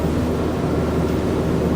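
Duchy 27 gentleman's motor cruiser picking up speed, a loud, steady broadband rumble of engine and rushing water with wind buffeting, continuous and close.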